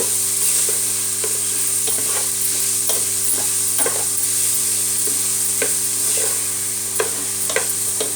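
Finely chopped vegetables for an aloo paratha filling sizzle steadily in a hot pan, close and loud, with regular scraping clicks of a spatula stirring every second or so. No one speaks.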